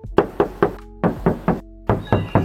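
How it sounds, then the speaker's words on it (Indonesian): Knuckles rap on the side body panel of a Daihatsu Gran Max minibus in three quick bursts of three knocks each, close and loud with short pauses between. "kita tes ketok lagi"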